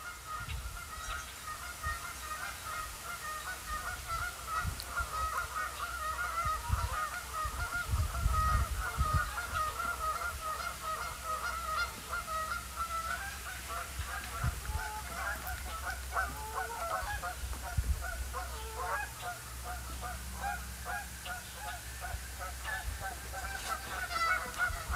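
A flock of geese keeps up a continuous chorus of honking on a cold fall day in Michigan, many overlapping calls at mid distance over low wind and outdoor rumble.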